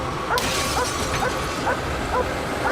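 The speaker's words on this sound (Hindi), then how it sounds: "इस कार पर भौंक रही है" A dog yips and barks in short repeated bursts at a car, several sharp calls spaced through the clip over a noisy background, with a clatter near the start.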